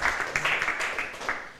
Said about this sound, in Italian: gli facciamo un applauso a Loris Bennato